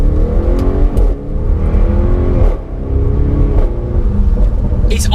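An Audi RS6 with a titanium exhaust system revs loudly and close, its deep rumbling note swelling and dipping through a few throttle blips.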